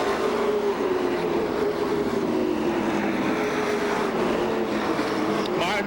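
Pro stock race cars circling Seekonk Speedway, a steady continuous engine roar with a gliding whine as cars pass, loud and constant throughout, with a race commentator talking over it.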